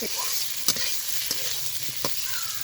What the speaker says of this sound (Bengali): আলুটা খুব সুন্দর করে একদম চটচটা করে ভেজে নিয়েছি